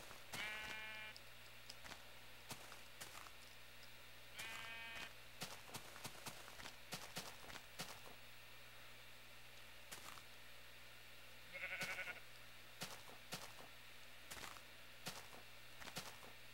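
Sheep bleat in a blocky survival game, a few separate calls scattered over a steady low ambient bed with faint footsteps and clicks, no voices.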